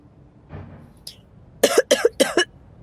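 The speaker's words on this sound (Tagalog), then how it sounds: "Akala ko ba maayos na ubo nyo?" Three sharp, harsh coughs in quick succession, close and fairly loud, after a quiet stretch with faint background noise.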